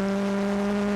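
Racing engine of a 1972 Alfa Romeo GTV on a short course, held steady in fifth gear at full throttle, a loud sustained drone with strong even tones, close and alone.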